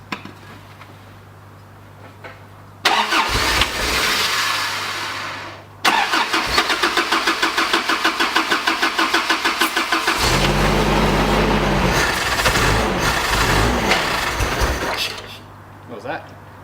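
A Toyota Bundera four-wheel drive at a 4WD park cranks briefly, stalls, then starts and settles into a steady, close idle, with a voice heard over it before the start.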